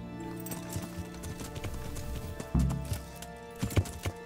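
Hooves clip-clop in a steady galloping rhythm from a black horse in an open-world fantasy video game, moderately quiet with a sharper thud partway through and intermittent louder hoof strikes.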